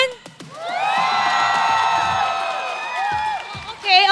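An esports crowd at the MPL PH Season 13 grand finals lets out a long sustained cheer and whoop, loud and continuous, after a few short shouts, with voices rising again at the end.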